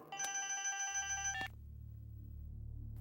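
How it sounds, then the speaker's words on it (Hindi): A telephone rings with a bright, steady electronic trill for about a second and a half and then cuts off, leaving a low hum, in a scene from a South Indian action film dubbed into Hindi. "सर, आपके साले का फोन।"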